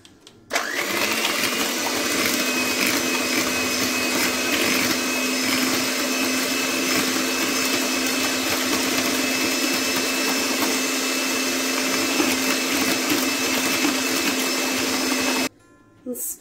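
An electric mixer whirs loud and steady through madeleine cupcake batter of salt, sugar and other ingredients, starting abruptly after a short pause and cutting off near the end.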